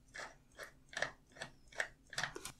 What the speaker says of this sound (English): And now just go ahead and start tightening.